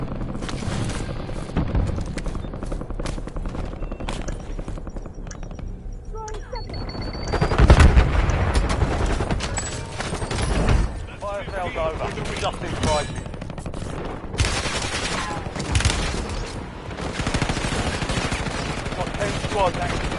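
Bursts of gunfire and heavy explosive booms from Call of Duty Warzone combat, loud and dense, with intermittent shots and a big blast near the middle over continuous battle noise.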